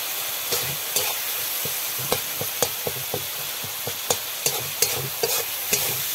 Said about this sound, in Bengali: সমস্ত মশলা ভালো করে কষিয়ে নেব